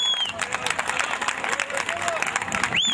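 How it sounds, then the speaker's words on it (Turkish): A crowd claps at a village harvest festival in Çamlıpınar, steady applause mixed with crowd noise and an announcer's voice speaking over it. "alkışlıyoruz."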